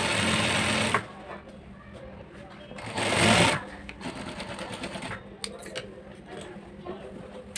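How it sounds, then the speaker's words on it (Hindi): A sewing machine runs double stitching along fabric for palazzo pants, with two loud close bursts of rapid whirring stitching separated by quieter clicking and handling noises. "हम इस पर भी डबल सिलाई करेंगे।"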